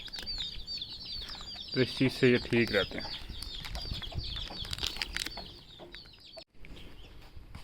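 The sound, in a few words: chickens clucking and flapping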